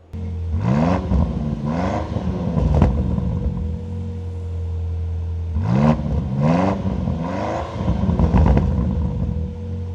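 A 2025 Land Rover Defender OCTA revs with its active exhaust open in performance mode, loud close engine blips rising and falling in two clusters of repeated revs over a steady idle rumble.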